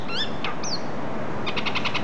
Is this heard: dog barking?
no